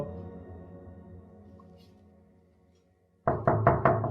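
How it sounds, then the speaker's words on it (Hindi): Knocking on a door in a domestic scene, a sharp close burst of four quick raps after a faint low hum fades to silence. "10 दफा नॉक किया, खोल ही नहीं रही दरवाजा"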